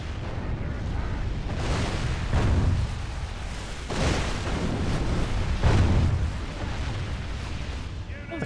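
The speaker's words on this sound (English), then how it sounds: "Lovely seeing the catapults fire on them" Heavy booming impacts of catapults firing and striking during a large battle in the Dominion of Isengard game, several deep rumbling blasts rising and fading over a constant battle din, with a voice talking over it.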